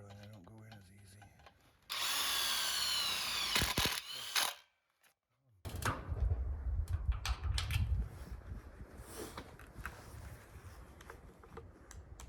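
A power drill whirs loudly for a few seconds during a greenhouse build, stops briefly, then starts again in shorter bursts with clicks and clatter around it.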